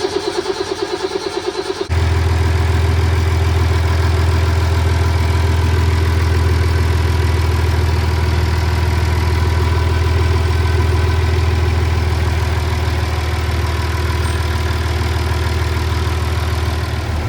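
Inboard engine on a 44-foot Defever yacht settles into a steady, loud low rumble after a brief start, idling evenly throughout with no talk over it.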